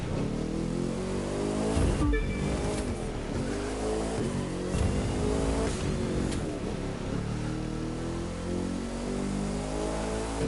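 A 2017 Ford GT hypercar in a road race in The Crew 2, its engine roaring steadily with rising and falling revs and gear shifts, loud and close throughout.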